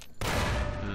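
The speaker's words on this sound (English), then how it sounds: "Oh, who's shooting me?" Gunfire from the video game Fallout New Vegas bursts in loud and sudden after a brief quiet moment, then rings on as a dense, sustained blast.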